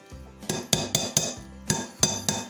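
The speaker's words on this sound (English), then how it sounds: "you can give it a stir, keep stirring, mix that up" A utensil stirs a bread stuffing mixture for stuffed kabocha squash in a bowl, giving several sharp clinks and scrapes against the dish in an uneven rhythm, close and fairly quiet, with no talking.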